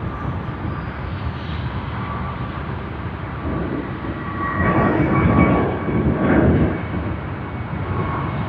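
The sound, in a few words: aircraft passing at Sydney Airport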